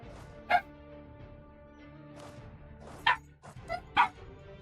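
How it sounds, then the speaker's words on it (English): Dogs bark in short, sharp bursts at a distance, about three or four yips and woofs spaced over a few seconds against a low background hum. "they're just barking as folks are coming back from their visit"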